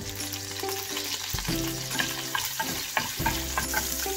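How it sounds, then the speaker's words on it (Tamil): Whole spices sizzle and crackle in hot oil left from frying prawns for a Bengali prawn curry, a steady close frying hiss with stirring scrapes and small pops throughout, no talking. "அந்த prawn fry பண்ண அதே oil ல whole spices add"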